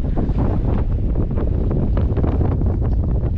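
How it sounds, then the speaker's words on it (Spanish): Strong wind blows hard across a cliff top above a lagoon, roaring in a dense, continuous rush with heavy buffeting on the microphone. "Y se está metiendo ahora mucho viento."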